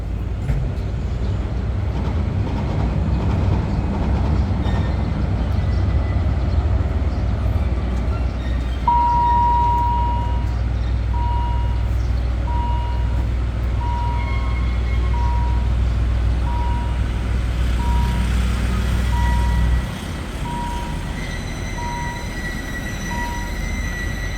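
A Henschel HAS 77 diesel locomotive shunts Kiha 40 railcars, pushing back and forth: a loud, steady engine rumble with rolling wheel noise and a repeated thin squeal, then the rumble drops off near the end.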